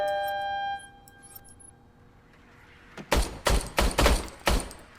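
A gun fires in the Robocop: Rogue City video game, five loud, punchy shots in a steady rhythm that follow a quieter stretch of electronic tones and ambience, with no talking.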